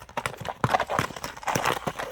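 Horse hooves clip-clopping at a quick, lively pace on a narrow street in Nookat, a close, fairly quiet run of uneven hoof strikes with no voices.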